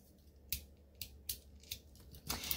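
An X-Acto knife slices lightly through a paper envelope flap in several quiet, separate strokes: brief crisp scrapes spaced about half a second apart, close by in a silent room.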